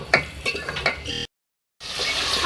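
Minced beef with tomatoes being stirred in a pan for a beef keema with bottle gourd: a few scraping spoon strokes close up, then a brief cut to silence, followed by a steady, bright sizzling hiss.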